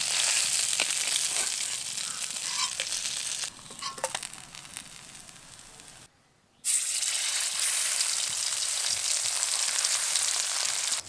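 Bhola fish fries in a small amount of oil in a pan, giving a steady close hiss of sizzling that briefly drops out and then resumes just as strong.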